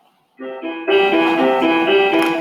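A few soft, clean piano notes played back from music notation software enter one after another, building into a sustained chord pattern, close and moderately loud without any talking.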